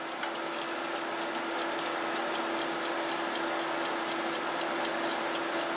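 An old wind-up alarm clock with real bells ticks steadily in a quiet room, with a fast, even run of soft, close clicks and nothing else over them.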